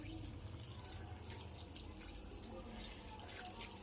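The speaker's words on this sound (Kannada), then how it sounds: "ನಂತರದಲ್ಲಿ ನೀರು ಸೇರಿಸ್ಕೊಳ್ತೀನಿ." Water runs from a tap into a cooking pot for greens sambar made with coconut and salt, giving a faint continuous splashing trickle throughout.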